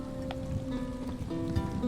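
Steady rain falling in the Elder Scrolls Online High Isle area, a continuous soft patter of drops on surfaces, mixed with faint tonal game ambience and music.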